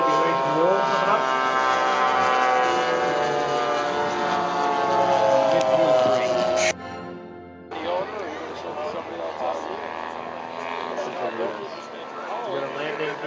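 A model airplane flies at an air show, its engine a steady, loud droning whine that cuts out abruptly partway through, then returns lower and rougher under a commentator's voice.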